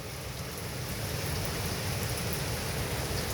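Heavy rain pours down and floods a roof in a dense, steady roar of water, loud and continuous with no voices.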